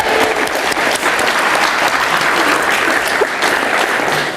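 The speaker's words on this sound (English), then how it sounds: "so let's just clap for that" Loud, dense applause from a graduation ceremony crowd, a steady wash of many hands clapping at once that continues unbroken for the whole stretch.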